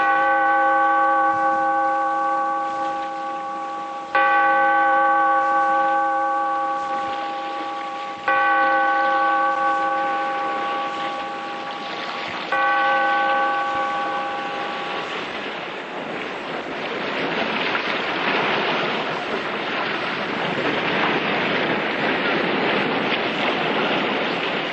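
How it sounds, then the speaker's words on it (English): A deep church-style bell tolls four times at slow, even intervals, each stroke ringing out long and loud before the next. Then the ringing gives way to a surging rush of ocean waves and wind, as in a 1944 radio drama. "Bellkeeper, toll the bell"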